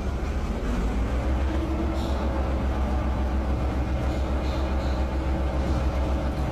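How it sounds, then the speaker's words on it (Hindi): Railway engine being coupled to a train at a station in Pakistan, heard as a steady, loud low rumble of rolling stock and machinery with no talk over it. "अब ये देखें ये इंजन जोड़ रहे हैं"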